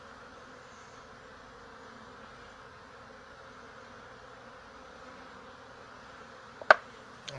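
Honey bees buzzing steadily at the entrance at the bottom of a hive, a faint, continuous drone close by, with a brief sharp knock near the end.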